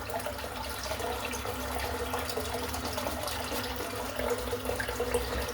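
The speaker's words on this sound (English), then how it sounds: "I was just about to dip my brush in the water, which is non-existent in the sink, so I'll just dip it in now." Water runs steadily into a bathroom sink while a shaving brush is dipped in for a head shave, a continuous rushing wash with no voices.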